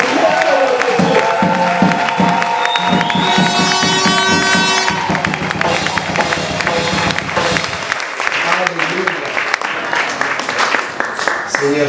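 A church congregation at a CVC 2017 gathering with Pastor Daniel Verdier breaks into loud, sustained applause and cheering, a dense crowd roar with shouted acclamations and music running underneath throughout.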